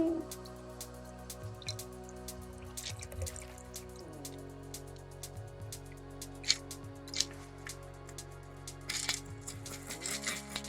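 A stirred Manhattan cocktail pours and drips from a capped mixing vessel into a glass, producing steady trickling with scattered small droplet taps over a constant low background hum.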